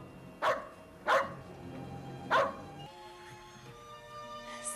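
A dog gives three sharp barks spaced about a second apart, close and fairly loud, followed by quieter indoor sounds.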